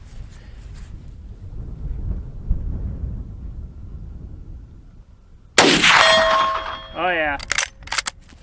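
A quiet outdoor rumble, then a sharp crack from a Rossi R92 rifle firing .357 loads, followed by a ringing metallic clang of a steel target, with a short remark spoken afterward.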